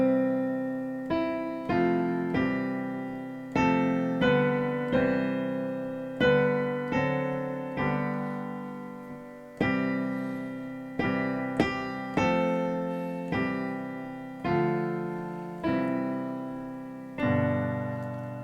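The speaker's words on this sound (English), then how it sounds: "if we were to play this in the manner in which we've been usually playing songs," Piano plays the hymn tune Duke Street with block chords in the left hand and the melody in the right, a steady series of struck, decaying chords at a moderate tempo, clear and alone.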